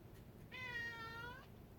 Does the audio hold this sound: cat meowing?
yes